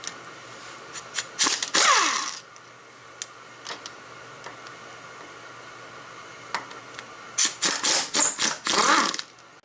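A ratchet turns out screws on a big truck's starter while the starter drive is being changed, with rapid clicking bursts near at hand early and late, and sparse single ticks in between.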